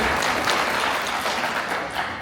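Gala audience applauding at an Indian American heritage celebration, a dense, steady wash of clapping from a large crowd that stays loud and even throughout, with no speech over it.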